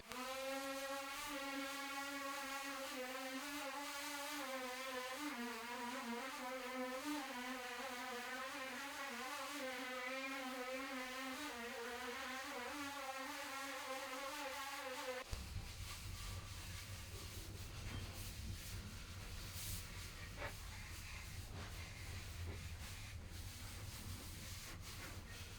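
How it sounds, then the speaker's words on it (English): Wood is sanded with a random orbital sander, a steady whirring hum with wavering tone for the first fifteen seconds, then a rougher, broader hiss of abrasion against the board continuing to the end. "Going to use this random orbital and a sanding block for the hard to reach places."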